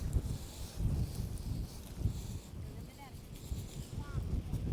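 Steady wind buffets the microphone outdoors with low rumbling gusts throughout, and a few faint high chirps poke through the noise.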